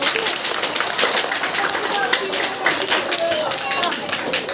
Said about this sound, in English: So give them a very big clap